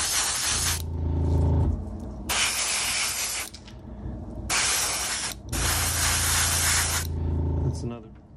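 Aerosol spray paint hissing in three long bursts onto a 1/35 scale Ryefield Models M1240A1 M-ATV engine block, close and loud, with a low background hum between the bursts.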